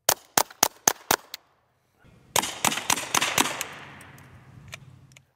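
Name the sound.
rifle shots of CCI Mini-Mag rounds into an iMac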